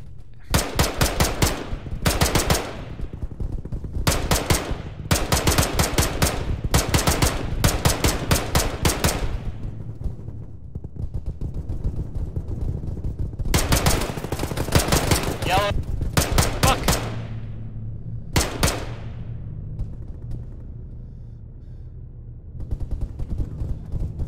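Automatic gunfire in the military game Arma played by a ShackTac group, several loud close bursts of machine-gun fire separated by pauses, with a later burst and a single shot, over a low rumble and occasional voices.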